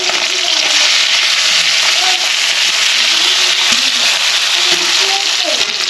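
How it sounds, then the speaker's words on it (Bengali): Steady sizzling and crackling of fish frying in hot oil, loud and continuous, with a voice speaking faintly underneath. "মাছগুলো দুদিকেই ভাজা হয়ে গেছে"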